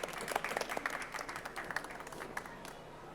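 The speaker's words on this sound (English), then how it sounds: "Let's give them a big applause." An audience claps at a COP29 climate panel event on regenerative seascapes, a short burst of dense applause that starts full and tapers slightly over a few seconds.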